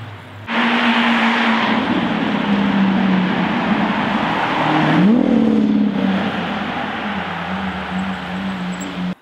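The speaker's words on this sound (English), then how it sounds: "F12 drive past" Ferrari F12 supercar passing close by outside a supercar showroom in cold weather, its engine starting loud and steady, then rising in a sharp rev partway through before settling into a droning fade as it continues away.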